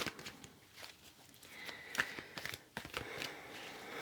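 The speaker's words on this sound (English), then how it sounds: "So I'm just going to shuffle now." Tarot cards are shuffled by hand in a quiet room, giving soft papery riffles and light taps at an uneven pace, faint and close, with no one speaking.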